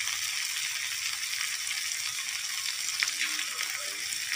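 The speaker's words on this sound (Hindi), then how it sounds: "10 मिनट हो गए हैं भूनते भूनते इसको।" Kundru (ivy gourd) sabzi fries in a pan after about ten minutes of cooking, giving off a steady, close, bright sizzling hiss with faint stirring scrapes.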